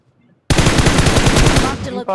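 A loud, rapid burst of automatic gunfire in the video game BGMI starts abruptly after a brief quiet and rattles on continuously, close and harsh, then cuts off with a short pause.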